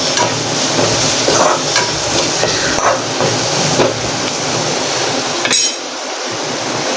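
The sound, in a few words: stirring spices into potato and pea curry in pan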